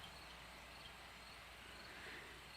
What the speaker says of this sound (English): listen to the frogs and the crickets and some forest sounds.